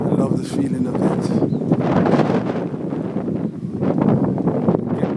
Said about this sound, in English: I hear that wind. You hear that wind?